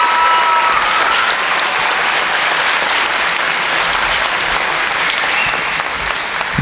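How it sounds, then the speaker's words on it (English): Sustained, dense applause fills an elementary school moving-up ceremony as the crowd claps for a group of named students, loud and even from start to finish before tapering slightly at the end. "Now give them a round of applause, please."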